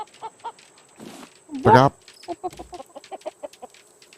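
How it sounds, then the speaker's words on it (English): Chickens in the survival video game Raft clucking and balking in a quick rhythmic series of short calls, heard alongside a brief spoken word and a sharp exclamation. "I'm just hearing chickens balk in my ear right now."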